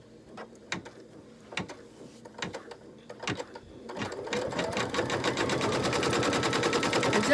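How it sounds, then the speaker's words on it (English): A Sweet Pea HoneyBee embroidery machine stitching down fabric on a placemat begins with a few separate needle taps, then settles into rapid, steady mechanical stitching close up, with no talking. "now it's going to stitch that down"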